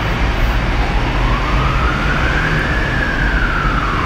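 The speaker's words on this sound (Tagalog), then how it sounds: "May ambulance na dumating." Emergency vehicle sirens, an ambulance and a police car, arrive at an apartment fire in Hamdan, Abu Dhabi. A single rising-and-falling wail carries over steady loud city and crowd noise, with no talk.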